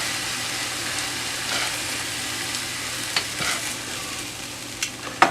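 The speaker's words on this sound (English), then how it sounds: "Just really high heat to sear it and get a lot of good flavor going with it." Skirt steak sears over very high heat, giving a steady broadband sizzle throughout with a few sharper pops and crackles near the end; no voices.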